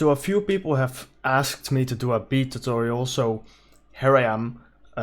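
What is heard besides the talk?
None of the usual background noises is heard.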